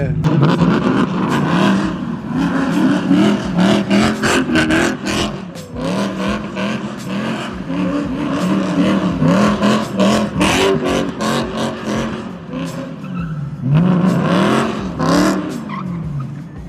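A BMW F80 M3 and another car drifting in the rain, with a loud, continuous engine roar that revs and swells and tire squeal throughout, while people talk over it.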